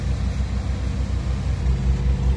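A dumper truck digs into soil, its engine giving a steady low rumble with slight surges, heard close and without speech.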